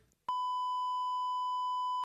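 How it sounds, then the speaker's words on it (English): A single steady electronic beep tone holds for nearly two seconds, clean and alone, starting and stopping abruptly. "Beep."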